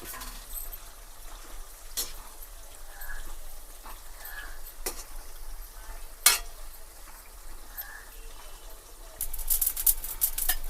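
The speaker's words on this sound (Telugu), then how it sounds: "ఆవాలు జీలకర్ర మెంతులు కొన్ని తీసుకొని ఇలా ఫ్రై చేసుకోవాలి" Mustard, cumin and fenugreek seeds sizzle and crackle faintly as they dry-roast in a pan, with occasional sharp scrapes of a spoon stirring them throughout.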